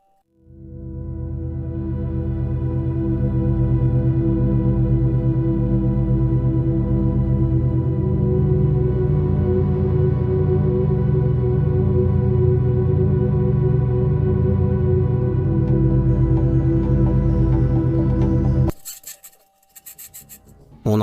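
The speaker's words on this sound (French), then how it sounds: "Ici, nous entendons le rover martien démarrer," Mars rover starting up, a steady grinding, rasping mechanical drone that builds and holds for nearly twenty seconds, then cuts into a few sharp, small metallic knocks and clicks at the end, with no voices.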